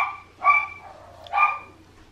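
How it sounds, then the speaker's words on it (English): Two sharp, high yaps from small dogs, about a second apart, fairly close, with a quiet pause between them. "Please excuse my yapping dogs."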